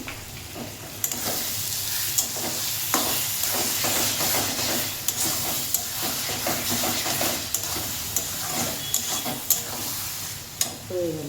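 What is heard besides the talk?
stirring masala chicken fry with ghee and garam masala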